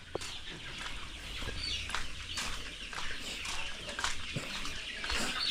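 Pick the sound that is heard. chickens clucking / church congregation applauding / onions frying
chickens clucking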